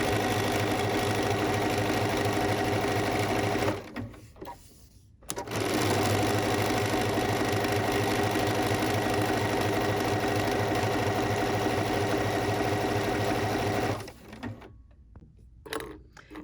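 Sewing machine running steadily while quilting decorative stitching on fabric for an ornament, a loud rapid mechanical whir in two long bursts separated by brief pauses with faint handling noise.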